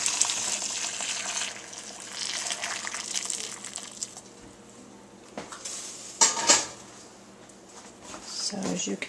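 Boiling water pours from a kettle and a large pan over corn packed in a cooler, a steady close gush with a few sharp clinks and knocks of cookware.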